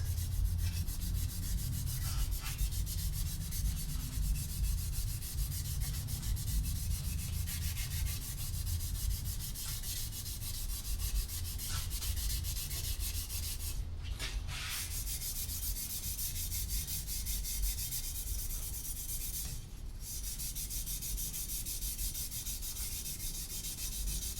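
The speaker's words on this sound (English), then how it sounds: "We're going to use a Scotch-Brite on this and then clean it up with the lacquer thinner" Scotch-Brite pad scrubbing a metal exhaust flange during a 2010 Subaru WRX build, a close, continuous abrasive rubbing in quick back-and-forth strokes, briefly pausing twice.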